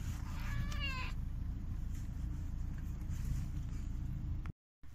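A single kitten meow at a vet visit near the start, rising then falling, over steady low rumbling background noise; the rest is quiet hum with a brief dropout near the end.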